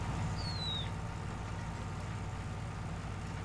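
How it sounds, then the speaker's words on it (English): A 175-horsepower tractor engine in Farming Simulator 19 hums at a steady low idle-like drone on a hilly farm map, continuous and fairly loud with no talk, a brief high whine sweeping across early on. "I thought this tractor would struggle a bit."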